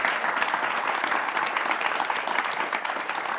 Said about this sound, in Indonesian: Pak Ustadz, tepuk tangan boleh.